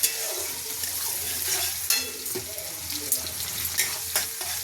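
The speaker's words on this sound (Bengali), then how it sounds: "এবার পেঁয়াজ কুচিটা দিয়ে দিলাম" Chopped onion fries in hot oil with dried red chilli, giving a steady close sizzle with occasional stirring clinks and scrapes of a spatula against the pan.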